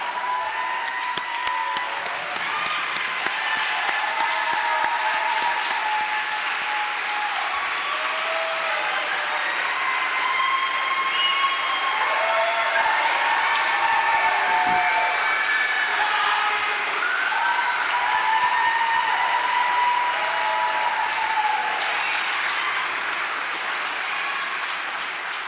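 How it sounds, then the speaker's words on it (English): Sustained applause from a standing audience at a university nursing pinning ceremony, loud and even for about half a minute with some crowd noise mixed in, no speech over it. "Everybody up and give them a big hand of applause."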